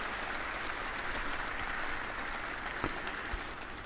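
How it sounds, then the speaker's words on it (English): Snooker audience at the Metrodome in Barnsley applauds, a steady moderate patter of clapping from a seated crowd that holds evenly with a couple of louder knocks near the end. "no wonder the people at the Metrodome Barnsley stand to applaud him"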